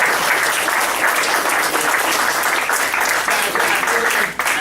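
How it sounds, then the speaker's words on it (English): An audience at a school choice talk claps loudly and steadily throughout, a dense, close wash of applause without pause. "you can clap if you want to"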